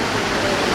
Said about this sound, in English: I've never seen so many waterfalls like all around the place